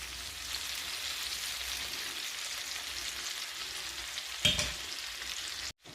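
Olive oil sizzles in a hot pan, a soft steady crackling hiss close by, with a brief clatter near the end before it cuts off, and no voices.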